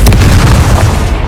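One loud, deep boom from a Confringo blasting spell exploding in Hogwarts Legacy, striking sharply and then rumbling away over about a second.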